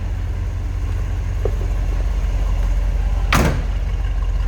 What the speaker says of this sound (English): Door shuts nicely.